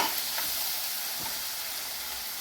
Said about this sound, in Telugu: కళాయి పెట్టుకొని ఆయిల్ వేసి ఉల్లిపాయలు అయితే వేయించుకుంటున్నామండి